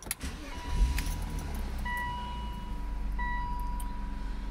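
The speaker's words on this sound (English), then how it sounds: "then you go ahead and start it up" A BMW Z3 roadster's engine cranks briefly and catches, then settles into a steady, close idle with a faint electronic chime tone running over it.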